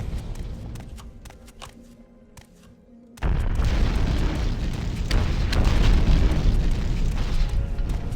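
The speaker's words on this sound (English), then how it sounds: "the disturbance triggered an earthquake, and I had to flee for my life" An earthquake in the Morrowind video game strikes after Dagoth Ur's destruction: a sudden loud, sustained rumbling roar kicks in about three seconds in and keeps going without pause, following quieter scattered clicks and taps.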